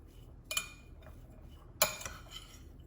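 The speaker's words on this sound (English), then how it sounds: "So give this a good mix." Metal utensil clinking against a bowl while salt and pepper are stirred into a vegetable pancake mixture, two faint sharp clinks a second or so apart over a quiet background.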